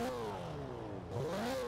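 A stock-engined Toyota Celica ST205 in the racing game Forza Horizon 4 revs up, its engine tone sweeping down and then climbing again, loud and close with no talk.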